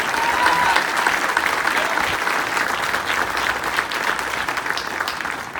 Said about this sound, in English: Please give Mike a round of applause.